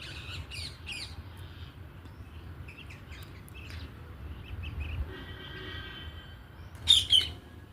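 Parrots gather and squawk outdoors, with a few sharp calls early and a loud squawk near the end over a steady low rumble of background noise.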